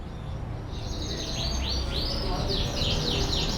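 A canary's small chirps and quick trills repeat over steady road traffic noise, fairly faint and somewhat distant.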